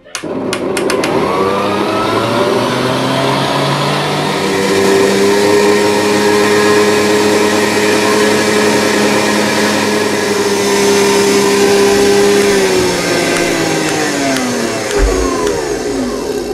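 An electric mixer runs on a medium setting, mixing batter until it turns light in colour, giving a steady, loud motor whine with a sustained hum that barely wavers over about sixteen seconds before easing down near the end.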